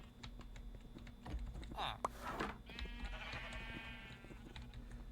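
Two sheep bleat in Minecraft, a couple of wavering cries in the middle of the clip, over quiet keyboard typing and clicks.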